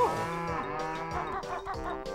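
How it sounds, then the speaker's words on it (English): A cow in the video game Banjo-Kazooie gives a long, loud, wavering moo that rises and bends in pitch, clear and alone with no talk. "That cow's pretty upset."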